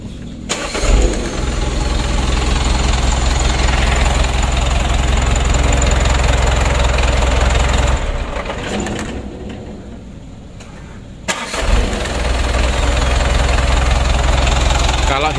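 Overhauled motorbike engine, five months after rebuild, cranks and fires up, then settles into a loud, steady mid-pitched idle with a slight knock, briefly dropping and catching again near the end.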